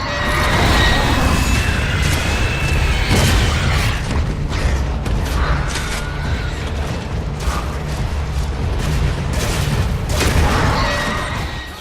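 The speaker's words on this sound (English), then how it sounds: "you just have to shoot him with the flamethrower and it could actually save your life" Sustained roaring blasts of a flamethrower aimed at a berserker in the Gears of War: Judgment video game, loud and continuous with mechanical clanks and bursts mixed through the game action.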